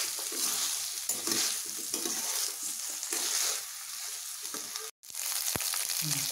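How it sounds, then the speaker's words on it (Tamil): Sliced okra and onions fry in a pan for a pepper okra dish, a continuous close sizzle broken by stirring scrapes, with a brief dropout and a sharp click near the end. "நல்லா வதங்கட்டும் வெண்டைக்காய்"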